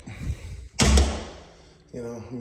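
An interior door in an older house, rubbing at the top and bottom, closes with a loud thud and then settles, with people talking just before and after.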